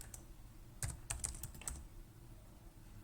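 Someone types on a computer keyboard at close range, a short burst of quiet clicky keystrokes followed by a pause, with no talking.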